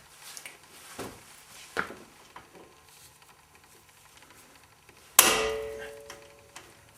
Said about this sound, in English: And then hit this with a hammer.